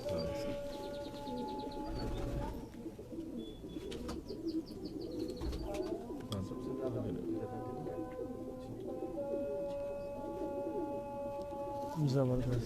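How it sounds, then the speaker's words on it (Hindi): Rooftop pigeons coo and chirp repeatedly, with occasional wing flaps, while people talk nearby throughout. "ये छत के नामिनेट कबूतर हैं"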